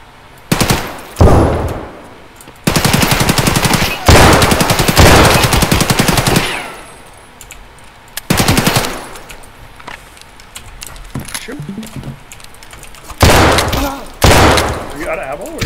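Loud bursts of automatic gunfire in Escape From Tarkov, several long rapid-fire volleys separated by quieter gaps, with players talking between and over the shots.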